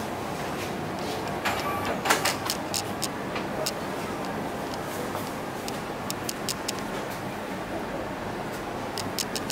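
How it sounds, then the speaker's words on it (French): A Xerox multifunction printer scanning a document, a steady mechanical hum with faint repeated clicks and ticks spread across the run, while a voice talks faintly in the background. "Nous allons scanner."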